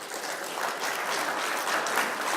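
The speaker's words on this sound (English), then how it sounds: "By applause." A short, steady burst of crowd applause from an audience, dense and even throughout without speech.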